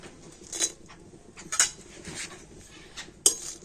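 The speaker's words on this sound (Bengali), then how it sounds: "তো প্রথমে আমি শুকনো লঙ্কা কটা কড়াতে দিয়ে দেব।" Dried red chillies dry-roast in a wok, heard as a few sharp clinks of a utensil against the metal pan with soft scraping and stirring between them.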